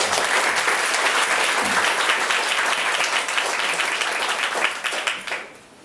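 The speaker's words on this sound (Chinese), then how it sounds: "那我们就热烈掌声欢迎他" An audience at a talk on the constitutional right of recall applauds warmly, a dense sustained round of clapping from many hands that holds steady and then fades out at the end.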